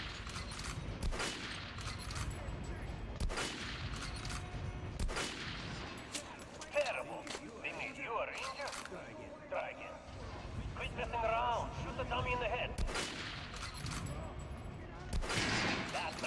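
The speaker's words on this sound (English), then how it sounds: "Look for sparks when you are shooting an armored target." Gunfire in the video game Metro Last Light, aimed at an armored target: repeated sharp shot bursts with metallic pings and sparks between them, heard under steady talk.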